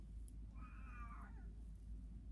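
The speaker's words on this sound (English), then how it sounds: "Kitty's making noise over there." A single faint meow from a cat, short and somewhat distant, over steady low background rumble.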